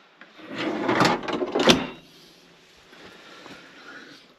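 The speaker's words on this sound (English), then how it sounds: "And then it's got a separate freezer drawer here." An RV refrigerator's separate freezer drawer slides open or shut with a close, loud wooden-sounding rumble and a sharp knock near the end, then quiet room air.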